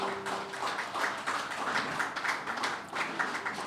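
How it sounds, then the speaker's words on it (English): Sustained applause from an audience at a media launch event, steady broadband clapping lasting throughout with no voices over it. "Another round of applause for Rodney Small"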